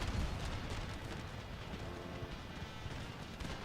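Musket volleys and artillery in an Empire Total War siege battle, heard as a rumbling, crackling mass of distant firing with a heavy boom at the start, steady and moderately loud.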